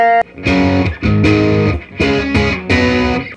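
A heavily distorted electric guitar replica plays a few sustained chords, each struck and left ringing, loud and up close.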